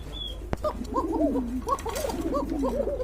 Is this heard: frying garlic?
no